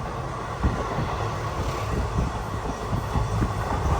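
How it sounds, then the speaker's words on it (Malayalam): A special train running from Jabalpur to Coimbatore rolls through Manjeshwaram railway station in Kerala with a continuous rumble of wheels and carriages. Wind buffets the microphone over the sound, and no voices are heard. "ട്രെയിൻ ഇതാ സ്കിപ്പ് ചെയ്യാണ്"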